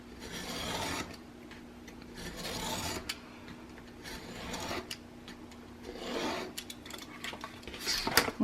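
A blade rasps and scrapes through mini album cover board in short, gentle strokes, close and fairly quiet, with brief pauses between passes and a faint steady hum underneath.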